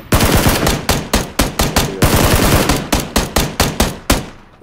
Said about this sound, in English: We got some suppressive fire